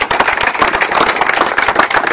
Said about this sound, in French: On peut les applaudir, notre équipe de choc.